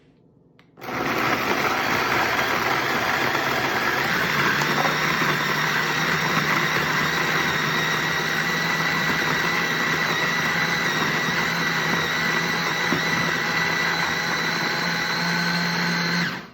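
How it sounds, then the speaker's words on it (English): A cordless food processor blends Oreo cookies in one steady, loud motor whir that starts abruptly and runs unbroken for about fifteen seconds, with no talking over it. "I've got them in our cordless food processor. I've got about a half a package in here and we're going to go ahead and just blend these up."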